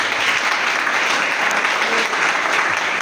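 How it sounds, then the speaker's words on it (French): A church congregation applauding loudly and steadily, a dense sustained roar of many hands clapping throughout. "Acclame très fort pour le Seigneur"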